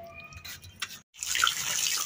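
Tap water pours and splashes as mustard greens (saag) are washed, a steady broadband rush that starts after a short pause, with a few brief tonal sounds before it.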